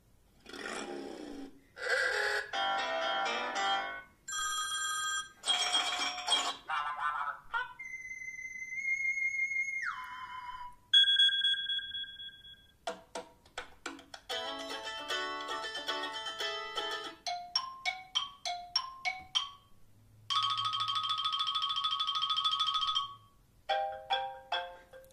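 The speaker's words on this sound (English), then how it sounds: "So quickly a look here at the ringtones that is new" Series of new iOS 7 ringtones on an iPhone 5, played one after another: bright tonal chimes, whistling glides, rapid plucked arpeggios and a buzzy synth pad, each a few seconds long, clear and loud with no talking.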